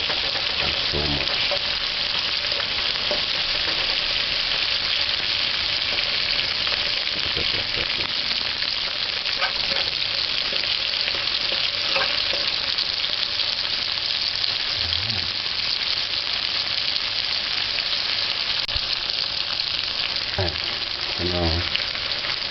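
Onion and pepper sauteing in a hot pan for a noodle chicken fry, a steady loud sizzle and crackle that holds throughout, with occasional stirring clatter and faint talk in the background.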